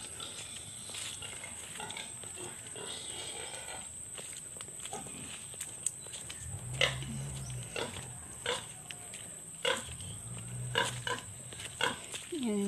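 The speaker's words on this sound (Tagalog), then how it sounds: "Yan, baboy ni Kuya Derek." Pig grunts and snorts from a backyard pen in a rural Filipino village, a few low bursts spaced through the middle and end, moderately close over a steady hiss of outdoor ambience.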